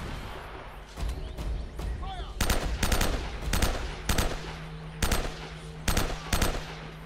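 M4 rifle fire in Uncharted: Drake's Fortune, loud sharp bursts of shots in a steady rhythm with clattering game effects around them.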